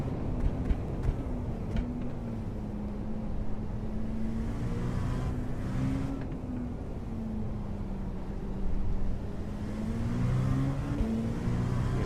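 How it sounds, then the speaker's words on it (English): GTP and GT3 race cars accelerate hard in a racing video game, a steady loud engine drone rising and holding pitch throughout with a few brief surges, no talk over it. "You can see that GTP just accelerate away. They're much faster, and we're a little bit faster."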